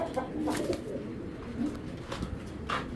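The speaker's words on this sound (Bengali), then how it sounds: "খুব অ্যাক্টিভ কবুতর দুইটা আসলে পাঙ্খি কবুতর" Pankhi pigeons coo close by in soft, low, rolling bursts, repeated several times against a steady background hum.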